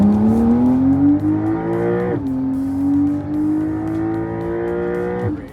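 A Porsche 911 on a race track at the Porsche Experience Center screams through the gears, its engine note climbing steadily, dropping sharply on an upshift near two seconds, then climbing again before another shift, loud and close with no talk.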